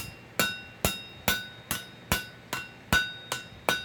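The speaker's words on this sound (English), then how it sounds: "hammer it down." Hot steel on an offset is hammered while forging pick-up tongs, nine evenly spaced ringing blows about half a second apart, close and loud, each with a bright metallic ring that fades quickly.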